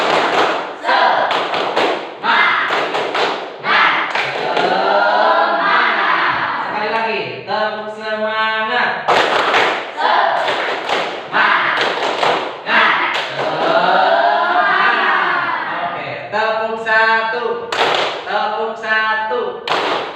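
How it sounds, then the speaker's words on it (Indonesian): A classroom group does a rhythmic 'tepuk semangat' spirit-clap chant: bursts of sharp hand claps in repeating patterns, loud and close, with children's voices chanting and shouting in unison between and over the claps. "mari kita tepuk semangat terlebih dahulu"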